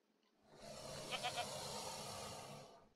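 A goat bleats in the Minecraft Jurassicraft mod, a short wavering cry at moderate distance, fairly faint, fading in and out over quiet.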